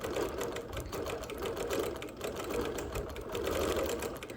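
A sewing machine stitching slowly and steadily while quilting an appliqué quilt, a close, continuous mechanical hum with rapid needle clatter and small shifts in speed, no talking.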